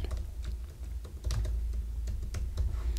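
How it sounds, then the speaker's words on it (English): Rapid keystrokes on a computer keyboard as a password is typed, a steady run of clicky taps over a low background hum, close and fairly loud with no talking. "I'm just going to put in my password"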